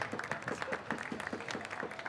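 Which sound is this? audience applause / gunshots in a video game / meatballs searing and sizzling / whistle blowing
audience applause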